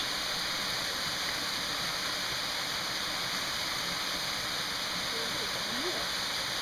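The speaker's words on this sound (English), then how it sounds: "Oh my God, what a beautiful waterfall." Steady broadband rush of the waterfall at Rock Creek Falls, where ice is present, heard close and continuous with no breaks, filling the scene evenly for several seconds.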